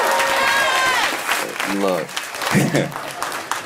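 A stand-up comedy audience claps and cheers in a dense, loud burst that thins out in the last second, while the comedian speaks over the noise.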